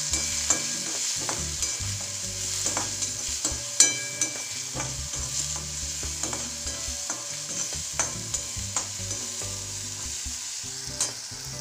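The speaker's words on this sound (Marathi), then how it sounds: "आता हे चांगलं परतून घेऊ." A spice mix with turmeric, red chili powder and salt sautéed in a pan, a continuous crackling sizzle under frequent clicking scrapes of a stirring spoon, close and steady with no talk.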